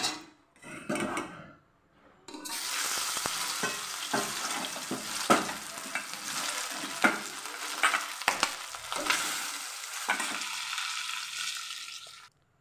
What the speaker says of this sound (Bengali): মাছগুলোকে আমি ভেজে তুলে নিয়েছি